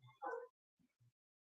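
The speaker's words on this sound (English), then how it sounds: "maybe you hear one of my dogs barking behind me here" A dog gives a brief whimpering yip and bark, then two soft low yips follow after a pause, faint and in the background with no talk.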